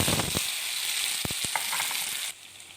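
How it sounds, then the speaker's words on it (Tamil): Cut onions dropped into hot oil with popped mustard seeds and fenugreek give a loud, dense, continuous sizzle with a few clicks of a utensil, dropping sharply quieter just before the end. "இப்போ கட் பண்ணி வச்சு வெங்காயத்தை சேர்த்துடலாம்."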